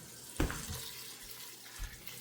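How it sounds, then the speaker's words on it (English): Hot water running from a kitchen tap into a pot, a soft, fairly faint stream with a few louder splashy bumps near the start. "Now, we're going to go back with the hot water."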